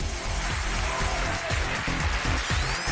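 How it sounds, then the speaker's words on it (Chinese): Studio audience clapping on a Chinese relationship talk show rolls on continuously, blended with loud music carrying a thumping, regular low beat. "掌声有请这一对"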